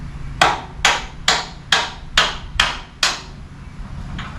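A hammer taps a screwdriver held against the edge of an axle on a Rekudo Dodge D100 RC truck, seven sharp metallic strikes at a steady rhythm, close up, with a faint eighth tap at the end.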